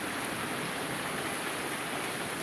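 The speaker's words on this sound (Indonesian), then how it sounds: "sedang hujan deras" Heavy rain falling steadily in a residential neighbourhood of Pasar Liwa, West Lampung, Indonesia, a dense, even hiss of water that continues unbroken throughout with no voices.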